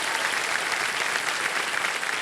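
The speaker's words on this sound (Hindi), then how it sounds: "और एक बार तालियां बज जाए उनके लिए।" Studio audience applause on the TV quiz show KBC, a steady, loud wash of many hands clapping without a break for the whole short stretch.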